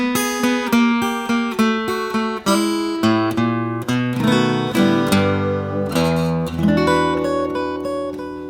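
Acoustic blues guitar plays a fingerpicked ending after the turnaround, with a run of rhythmic plucked notes settling into ringing final chords, close and solo.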